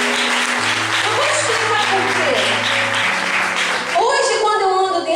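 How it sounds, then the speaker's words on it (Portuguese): A church congregation gives sustained applause to the Lord during a sermon, the clapping dense and loud under the preacher's speech, with music in the background and the preacher resuming talking near the end. "Você pode aplaudir o Senhor?"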